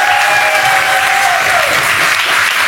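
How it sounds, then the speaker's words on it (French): Loud, dense applause from a crowd at a children's club show, steady and close throughout with a faint whistle over the clapping. "on l'applaudit"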